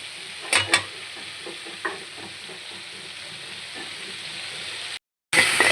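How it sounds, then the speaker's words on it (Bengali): Prawns frying in oil with salt, a steady hissing sizzle with a couple of sharp pops early on, then a brief silent gap before the frying resumes. "সামান্য লবণ আর তেল দিয়ে দিচ্ছি একদম ভালো করে মশমশা করে লাল করে ভাজিয়ে"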